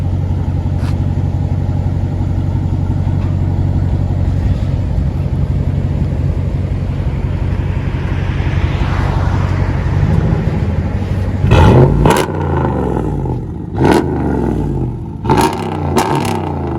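A Dodge Ram Big Horn edition pickup heard from inside the cab, its V8 holding a steady, deep rumbling idle, followed near the end by a few sharp knocks and clatters.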